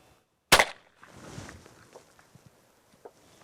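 A single 20 gauge shotgun blast fired at birds with light 7.5 shot loads cracks out sharp and close, then the report rolls away across open country, followed by faint scattered footsteps and rustling.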